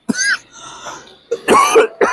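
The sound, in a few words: cough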